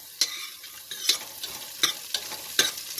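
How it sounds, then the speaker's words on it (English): Green chili and onion stirred in a hot frying pan, four or five distinct scraping strokes over a soft, steady sizzle, close and clear with no talking. "Then again mix well."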